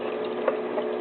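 Simple Walmart aquarium filter on a saltwater tank running with a steady close watery gurgle and hum of flowing water, a couple of faint bubbling splashes, no talking.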